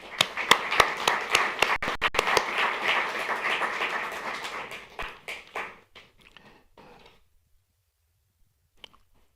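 Loud, dense applause from an audience at a city State of the City address, sharp claps crowding together for several seconds before thinning into scattered final claps and fading to near silence.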